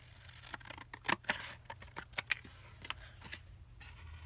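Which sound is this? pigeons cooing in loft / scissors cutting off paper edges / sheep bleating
scissors cutting off paper edges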